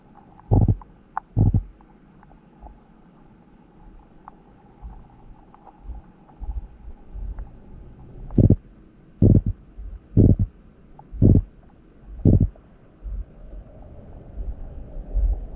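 Aggressive tilapia guarding its nest in a mangrove forest, heard underwater producing a series of short, low, thumping grunts spaced irregularly across the recording, with quieter murmuring water noise in between.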